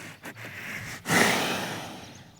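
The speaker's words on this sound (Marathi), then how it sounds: "चिमण्याला जरा जास्त धाप पडते" A bullock breathes heavily after pulling a plough through a soybean field, with a few short snorting puffs followed by a longer, louder exhalation close by.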